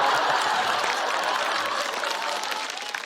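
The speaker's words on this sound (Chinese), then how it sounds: "让我们把掌声送给5哈的重点邓超老师" Sustained audience applause at a stand-up comedy show, a dense, steady wash of clapping from a large crowd that stays loud and even throughout, fading only slightly toward the end.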